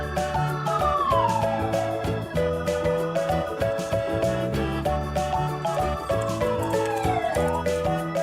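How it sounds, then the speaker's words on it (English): A toy ambulance plays an electronic wailing siren, loud and close. The pitch sweeps down and repeats over a busy, jingly musical background. "Ambulance."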